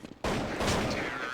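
A single loud shotgun blast in Counter-Strike, a sharp onset after a brief quiet moment and then a dense, ringing report that fills the rest of the short moment.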